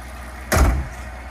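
The door of a Rolls-Royce car shuts with a single firm thud, a short, heavy low-end impact against quiet background hum.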